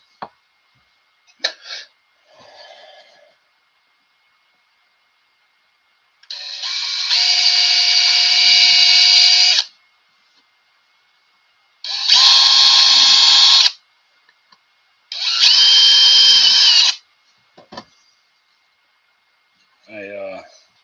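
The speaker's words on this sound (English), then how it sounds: "when you push down, it's got a little drill bit that comes out" A drill cutting holes in a fuselage airframe whines loudly in three bursts of a few seconds each, close by, with short clicks and handling noises in the quiet gaps.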